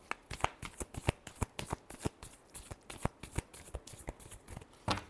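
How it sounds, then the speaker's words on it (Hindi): Tarot cards riffled and shuffled in a steady run of quick, crisp flicks and snaps, close and fairly soft, with no voices. "Last shuffle."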